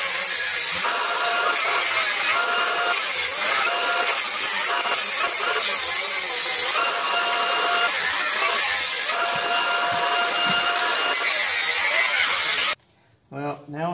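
A 125mm angle grinder cutting apart a large air conditioner compressor, a loud, continuous high-pitched metal-cutting whine with fluctuating load that stops abruptly near the end, and a brief spoken word.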